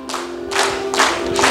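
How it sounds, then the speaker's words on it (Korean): A church congregation claps in rhythm, sharp bursts of clapping arriving in steady beats, with a sustained tone underneath as the hymn begins. "박수 치시면서"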